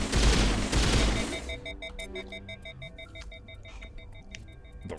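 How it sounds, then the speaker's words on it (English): The Ryko burst-fire gun shooting in Mass Effect Legendary Edition: a loud dense burst of rapid shots for the first second and a half, then ringing electronic tones and scattered faint clicks as the firing stops. "Nope, it's also a burst fire."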